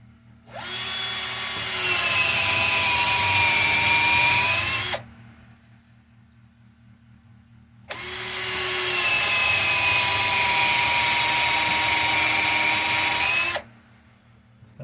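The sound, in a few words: drilling holes into walnut end grain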